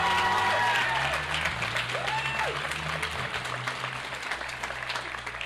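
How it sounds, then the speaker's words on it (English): Loud, dense applause from a large audience at a high school commencement ceremony, with some cheering mixed in, holding steady and then gradually easing over several seconds. "How about a big round of applause for the 95th state championship in our school's history?"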